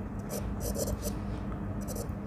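Chalk or marker writing on a board during a Class 9 math lesson on simultaneous equations, soft scratchy strokes in short bursts, quiet and close with no talking.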